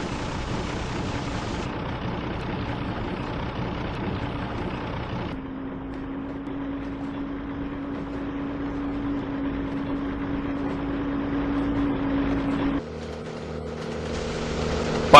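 Bertie the bus drives along through heavy snow, a steady engine hum and rumble running continuously, with a sustained tone shift partway through before the drone returns.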